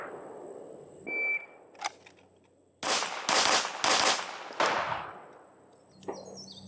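Pistol shots at a training range: one opening shot on the draw, then two rapid body shots close together, loud and sharp against quiet surroundings, with faint beeps and clatter around them.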